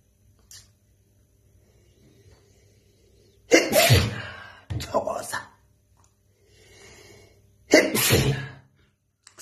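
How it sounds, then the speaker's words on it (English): Three sharp sneezes from a man with sinus trouble come in quick bursts, the first two close together and the third after a short pause, each loud and near against a quiet room. "I'm about to sneeze."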